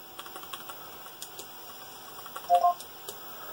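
Fingers typing on a USB keyboard hooked up to a multi-game arcade board, a sparse run of light, quiet key clicks with a slightly louder cluster near the end.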